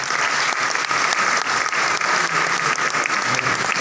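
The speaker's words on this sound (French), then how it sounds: "Sous vos applaudissements." Audience applause fills a festival opening ceremony in Meknes, a steady, dense clapping from a large crowd that holds at full strength throughout.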